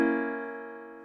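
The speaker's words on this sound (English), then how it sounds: "Here is a diminished chord." A single sustained diminished chord, struck once and left to ring, used as an example in a jazz improvisation lesson on chords and arpeggios; its tones decay slowly over about a second with no talking.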